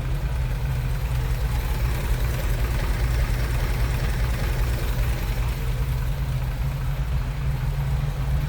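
A 1963 Willys Jeep CJ5 with its Hurricane 4-cylinder engine idling under an open hood, a steady low rumbling drone with a slight knock, close and continuous, with no talk over it.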